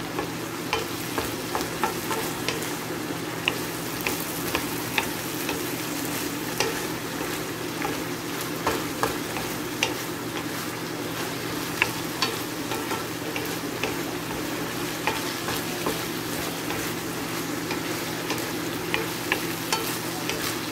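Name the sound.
stirring and frying ground pork (pork giniling)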